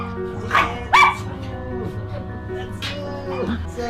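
A newly adopted dog gives a few short barks and yips close by, while someone talks throughout.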